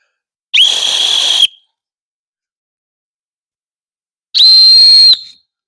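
Fox 40 safety whistle blown twice, each blast a shrill, piercing tone lasting about a second, separated by a few seconds of silence, loud and close.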